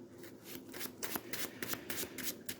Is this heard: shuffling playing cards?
yes